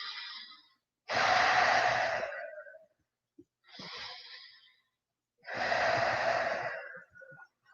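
Deep, slow breaths during a yoga shoulder stretch, four long inhale-exhale cycles, close and clear with silence between them.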